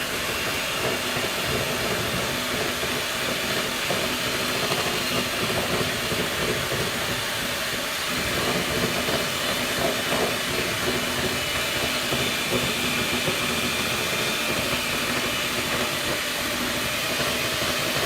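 An electric mixer whips cream for a no-bake cheesecake, giving a steady, loud motor whir with a hissing edge that runs unbroken and alone throughout.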